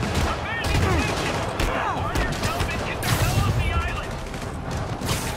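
Gunfire in Marvel's Spider-Man Remastered, with armed inmates in a prison setting, sounding as a dense, continuous volley of shots and impacts under game music and effects, with voices talking over it.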